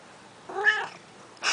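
A single indoor cat gives one short, clear meow near a window, close and alone against a quiet room.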